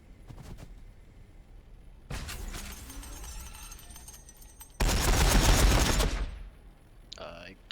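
Gunfire effects in a Warhammer 40,000 tabletop battle between Blood Angels and Orks, with broadband bursts of shots in separate clusters, the loudest sustained volley near the end, then a brief tonal effect.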